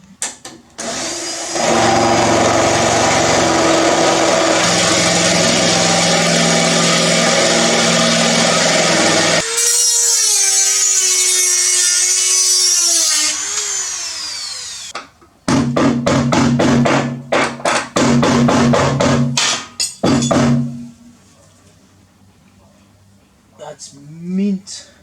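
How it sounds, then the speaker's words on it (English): A spot weld drill bit bores out spot welds on the rusty body of a Toyota Hilux, giving a loud sustained grinding whine, then a brief rising pitch and choppy bursts of drilling that stop and start before tapering off. "Get the spot weld drill bit, which is somewhere, and drill out that spot weld."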